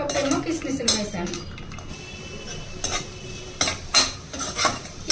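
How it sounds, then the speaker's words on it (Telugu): Cashews and raisins stirred in hot fat in a kadai for rava laddu, with a spoon scraping and clinking against the pan in irregular strokes over a soft steady sizzle, close and fairly loud. "అదే కప్పుతో హాఫ్ కప్పు కిస్మిస్ వేస్తున్నానండి. ఇవి ద్వారగా వేయించుకోవాలి."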